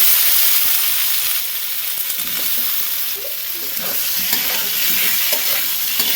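Eggplant and potato pieces hit hot oil with black cumin and green chili after fish has fried, giving a loud, continuous sizzle with spatula stirring and scraping through the middle, alone without talk.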